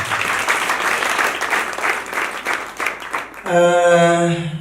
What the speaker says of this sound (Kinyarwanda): ushatse wakomera Imana amashyi